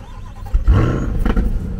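A 2022 Chevrolet Corvette C8 convertible engine starting up: a loud, close crank catches into a deep roaring revving burst, then settles into a throaty idle.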